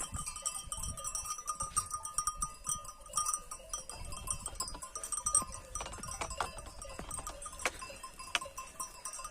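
A flock of sheep bleats in scattered bursts outdoors in green mountains, some calls near and some distant, with faint bells clinking among them.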